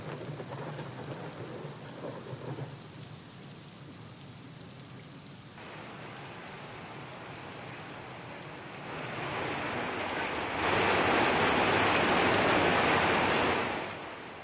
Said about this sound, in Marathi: पुण्यातील ढिंबे धरण आणि माळीण परिसरामध्ये मुसळधार पाऊस झाला आहे.